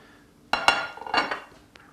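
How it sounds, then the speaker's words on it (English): Pieces of lamb going into a cooking pot for couscous, heard as a few close clinks and soft thuds in quick succession over about a second, then quiet. "Start putting our meat inside the pot and just right in the middle."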